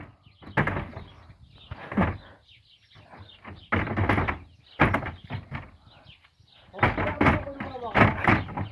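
A ram pushes a door open with its horns, making a few dull knocks and a thunk as the door swings, under excited voices and laughter.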